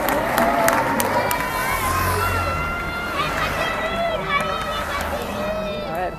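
Roadside crowd at Stage 3 of the 2018 Tour de France in Cholet, France, cheering and whooping loudly and continuously as riders pass, with shouting voices and general babble close by.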